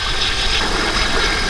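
Engine of a VX Commodore with about 230,000 on the clock idles at close range, a steady even rumble with a hiss over it and no break, with no one speaking.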